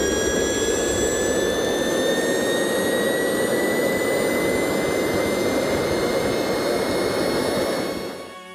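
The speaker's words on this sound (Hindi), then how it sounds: "एक जेट इंजन 140 dB का साउंड प्रोड्यूस करता है।" A loud, steady jet engine roar with a high-pitched whine rising slowly above it, holding constant before fading out at the very end.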